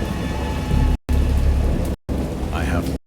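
Heavy rain pours with rumbling thunder in the horror game Dagon, a steady, close downpour broken by brief silent gaps, with a deep roll of thunder building underneath.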